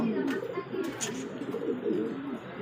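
Pigeons coo softly in a steady, low rumbling chorus, with a few faint chirps above.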